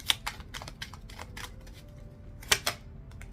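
Tarot cards being shuffled by hand give a quick run of crisp, papery snaps and flutters, close and fairly quiet, with one sharper riffle near the end and no talking.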